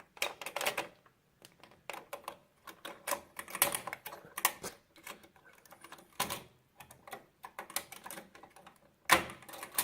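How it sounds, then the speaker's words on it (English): Plastic protective cover being pulled off a CPU socket on a motherboard during a computer build, heard as a string of close, sharp clicks and crinkly snaps in irregular bursts, with a louder crackle near the end. "Take off the plastic, like that."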